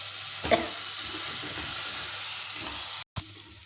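Eggplant and onion fry steadily in a hot pan, giving a continuous loud sizzle and hiss broken by a few stirring clicks and a brief cut near the end.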